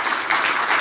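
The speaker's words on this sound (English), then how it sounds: "another round of applause to the team." An audience at the Code for Earth 2024 final event gives the team a round of applause, a brief burst of dense, even clapping heard up close.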